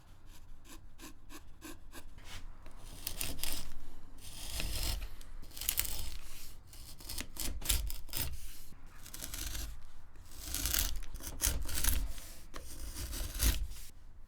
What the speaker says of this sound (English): So I'm just gonna remove a little bit of material off the top and then bring that millimeter wide spine back onto the brace.